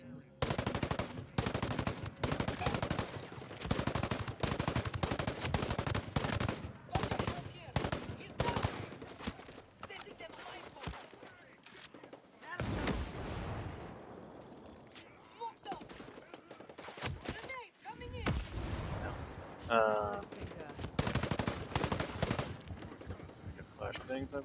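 Devore assault rifle fire in Ghost Recon Breakpoint, with dense bursts of rapid automatic shots and explosions filling most of the stretch, easing briefly midway, with occasional talk over the action.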